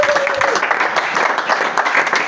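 A church congregation claps together in praise during a worship service, a dense, steady burst of applause that fills the room, with a voice briefly rising over it.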